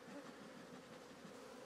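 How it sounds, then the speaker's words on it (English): A honey bee colony lodged in a chimney gives off a dense, steady buzzing that stays fairly faint and unbroken, with no voices. "There's a lot of bees, man."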